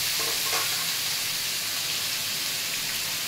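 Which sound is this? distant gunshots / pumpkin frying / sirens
pumpkin frying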